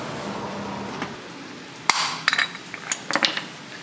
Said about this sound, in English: we have two sockets holding the metal up. I'm just hammering it out.